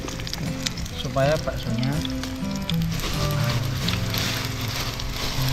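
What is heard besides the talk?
shallots frying for fried onions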